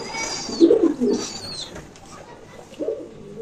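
Soft, low pigeon coos, a couple of close murmuring calls and a fainter one later, over quiet background noise.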